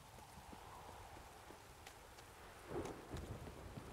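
Steady rain pours down in The Witcher 3, with a low rumble of thunder swelling near the end over the constant hiss, with no talking.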